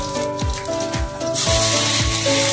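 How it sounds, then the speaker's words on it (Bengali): Panch phoron spices dropped into hot oil after frying fish, a bright continuous sizzle that swells louder partway through, accompanied by a steady rhythmic thumping in the background, with no talking. "এবার গরম তেলে পাঁচ ফোড়ন দেবো"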